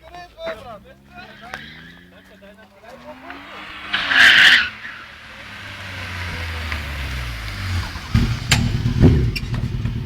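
A BMW E36 with a 2.0L engine does a burnout, its tires letting out a sharp screech and its engine revving and building over a long spin, with people talking nearby.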